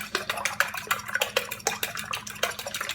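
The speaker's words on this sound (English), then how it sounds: "just make sure to whisk those bad boys and get some air in there" Eggs are whisked briskly in a bowl, the whisk clicking against the sides in a fast, steady rhythm of sharp taps, close and unaccompanied by talk.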